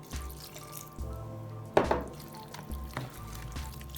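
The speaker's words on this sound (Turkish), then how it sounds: "Bu aşamada yarım çay bardağı su ilave edelim." Water pours in short bursts into a pot of Turkish stuffed peppers (biber dolması), a splashing trickle with a louder gush near the middle, close and alone with no talk.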